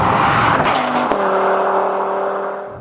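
An Audi TT RS five-cylinder turbo engine fires up with a loud, close burst, then settles into a steady, throaty idle that fades slightly toward the end.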